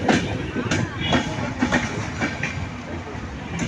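A train pulls into Erode Junction, a station in Tamil Nadu, with steady rolling rumble, rhythmic wheel clatter and brief hissing bursts, close and moderately loud throughout.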